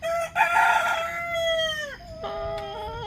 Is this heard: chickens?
yes